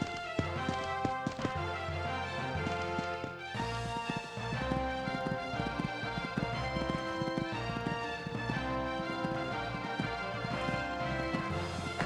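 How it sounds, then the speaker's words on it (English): Hoofbeats of a horse galloping and jumping fences in the video game Equestriad 2001, a steady rapid clip-clop running under continuous game music. "These two are really galloping along now."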